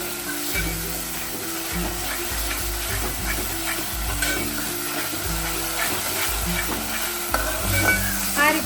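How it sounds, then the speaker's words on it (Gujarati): Vegetables sizzle in hot oil for a sambar tempering, a continuous close frying hiss with scraping stirs repeating throughout, loud and steady. "આપણે તેલમાં આ બધા શાકભાજી નાખ્યા પછી હલાવ કરેવાનું છે"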